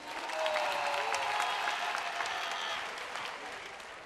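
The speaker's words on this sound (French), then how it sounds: "Ça s'applaudit, public." A crowd applauds at the final of a dance battle competition, sustained, even clapping from a large audience that swells early and then slowly fades, with some cheering voices blended in.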